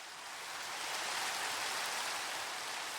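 Minecraft rain falls as a steady, dense hiss that swells slightly and then holds even for the whole stretch, with no voices.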